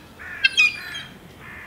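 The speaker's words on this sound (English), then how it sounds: "That is a baby seagull that does that all day." A seagull chick gives shrill, wavering squawks in two short bursts, fairly close and loud against a quiet background.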